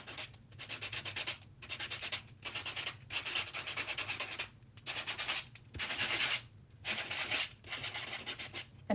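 An embossing buffer sands a cardstock background in quick rhythmic bursts of scratchy rubbing, close and fairly loud, separated by short pauses between strokes.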